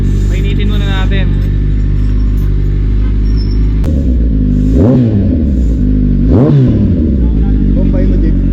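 Car engine fitted with a cat delete and a new resonator at a muffler shop idles loudly and deeply, then gives two sharp revs that climb and fall, with people talking nearby.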